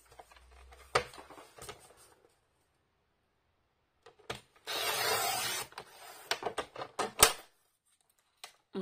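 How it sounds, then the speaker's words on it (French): Scissors or a blade cutting a small strip of paper to make a bookmark, with close, dry snipping and rustling bursts separated by pauses, including a longer continuous scrape in the middle. "Donc moi, je vais couper déjà ma petite bande."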